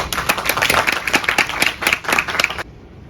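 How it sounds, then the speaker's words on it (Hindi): A modest audience at a college stage performance claps in distinct, uneven bursts, individual hand claps standing out close by, before the clapping stops abruptly near the end. "एक बार हो जाए तालियां आपके लिए।"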